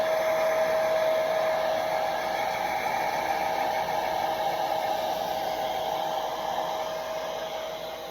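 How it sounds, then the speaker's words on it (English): A hair dryer blows warm air over a battery hen named Nub after an Epsom salt soak, giving a loud, steady whooshing drone with a faint whine that holds for several seconds and tapers slightly at the end. "And I love how the birds, they all love the hair dryer."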